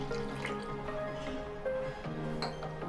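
Water pours from a glass into a pot of washed toor dal, a steady close liquid fill with drips and a faint clink of the vessel, no talking.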